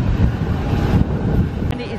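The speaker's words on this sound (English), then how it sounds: "And it is very, very windy here" Strong gusty wind buffets the microphone at an airport during boarding, a loud continuous roar with a brief sharp knock near the end.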